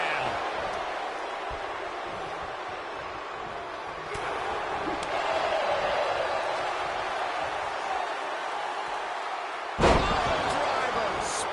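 A wrestler slammed to the mat in WWE 2K25, a sharp heavy thud near the end over a continuous arena crowd roar and game commentary talk.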